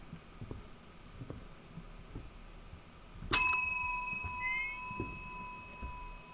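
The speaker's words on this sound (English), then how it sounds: "I don't want to ring your bell again, but it's what you want." A single bell strikes in the horror game Suite 776, a sharp bright ring with a long sustained hum that follows faint low thuds and shuffling.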